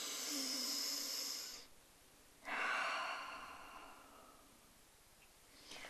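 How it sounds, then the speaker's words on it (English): Deep breathing during a yoga exercise: one long exhale, a pause, then a second long breath that fades out slowly, close and airy against a quiet room. "Breathe deeply. It's very important to breathe deeply."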